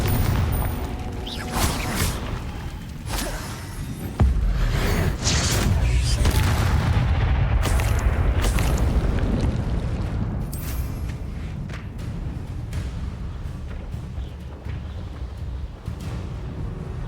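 A Confringo fire spell explodes in Hogwarts Legacy with a loud booming blast, followed by sustained rumbling and crackling magical impacts that fade slowly over several seconds.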